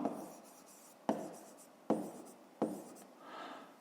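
A pen writes by hand on paper during a maths exercise, in four short scratching strokes, each starting with a soft tap, close and quiet with pauses in between.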